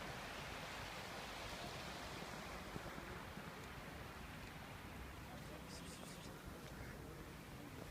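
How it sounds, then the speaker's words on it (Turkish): A babbling stream flows in Karabük, Turkey, giving a faint, continuous, even rush of running water that stays steady from start to finish. "Derenin sesini duyuyor musunuz? Şırı şırıl atıyor."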